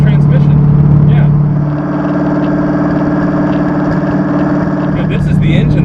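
A Hennessey GT1000 twin-turbo Ford GT engine runs close by, a loud steady idle with a lumpy mechanical pulse that eases slightly after the first seconds, with faint voices around it.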